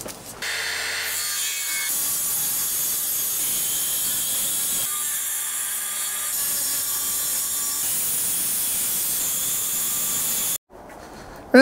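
A wooden shelf board for a Sprinter van conversion is cut with a saw. Loud, steady rasping strokes run close up for about ten seconds, then stop abruptly.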